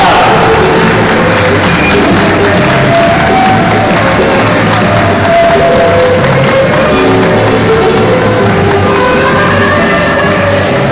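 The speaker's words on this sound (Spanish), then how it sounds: "Con el aplauso acompañamos y la alegría." A large crowd fills the air with dense, continuous noise of cheering and clapping, loud and sustained throughout without pause.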